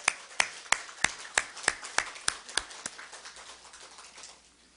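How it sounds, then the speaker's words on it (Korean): A church congregation gives a round of applause of thanks. About ten sharp, fairly close claps land in a loose, steady rhythm, then thin out and fade to near silence. "우리 하나님께 감사와 영광의 박수 한번 올려드리겠습니다."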